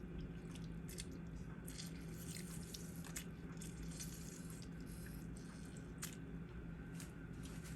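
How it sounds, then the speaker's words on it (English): Lemon juice squeezed by hand over cleaned, washed shrimp, a faint wet squishing and dripping against a steady background hum, with soft irregular splashes. "I have already cleaned and washed my shrimp, so I am just going to squeeze some lemon juice"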